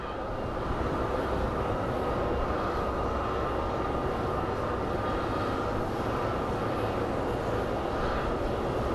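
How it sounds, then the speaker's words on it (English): A small Embraer regional jet being pushed back at Phoenix Sky Harbor airport gives a steady, loud engine roar and whine that stays constant for the whole stretch. "We have a little Embraer regional jet being pushed out."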